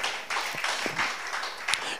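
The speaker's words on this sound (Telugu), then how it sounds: "చప్పట్లు కొడుతూ ప్రభు నామమే" Church congregation claps along while praising the Lord, a loose, moderately close patter of many hands with a few sharper accents and faint voices underneath.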